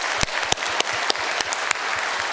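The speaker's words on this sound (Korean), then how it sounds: "우리 하나님께 큰 영광의 박수로 감사하겠습니다" A church congregation claps in quick, loud, sustained applause after an Easter sermon, the sharp claps blending into a dense wash of sound.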